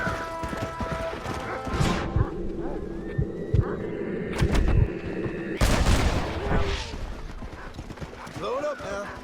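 Horse hooves clip-clop steadily through a Red Dead Redemption ride, with a few sharp gunshots cracking out midway and a horse whinnying, all under continuous talk from the game characters.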